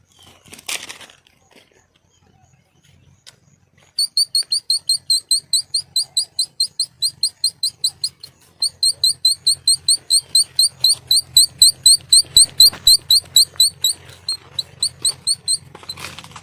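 A shrill whistle blown through a palash (flame-of-the-forest) flower chirps in quick, evenly spaced bursts, imitating a sparrow's chirping. It starts after a few seconds of near silence and keeps a steady rhythm.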